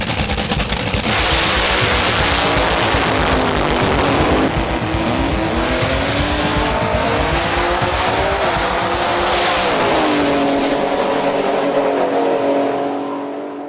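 Top fuel drag cars at Calder Park Raceway in Melbourne, during the 2012 APSA Shootout, roar loud and close with screeching tyres and rising engine notes that sweep upward, a continuous blast fading at the end.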